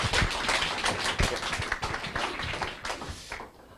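An audience at a Saturday business conference claps to welcome a speaker onstage: dense, steady applause that swells, then thins and fades near the end.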